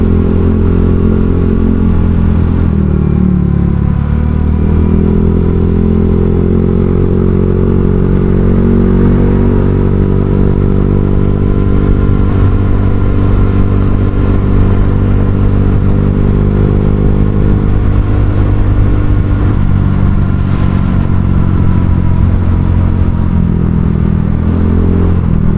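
A Honda Vario 150 scooter fitted with a Kenziro racing exhaust rumbles steadily up close, its deep drone holding for the whole stretch with slight rises and dips in revs and no voices over it.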